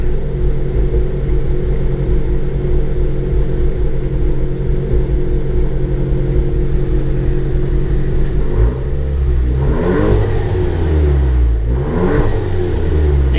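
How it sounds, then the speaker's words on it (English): A Nissan SR16 engine with a CNC Innovations manifold, direct and port injectors and a MoTeC M142 ECU idles with a low steady rumble, then revs up sharply twice, each rise and fall loud and close. "See the engine revs and it's responsive and it's wonderful"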